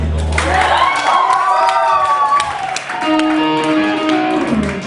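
A live concert crowd at the Velour claps and cheers loudly, with whoops and shouts rising over sustained applause, then tapering into scattered cheers and calls.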